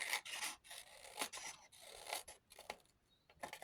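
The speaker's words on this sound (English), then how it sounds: "let's cut this back one off" Scissors snip through a sheet of paper while a page is trimmed for a handmade journal, giving a series of short, close, crisp cutting strokes separated by brief pauses, fairly quiet and with no talking.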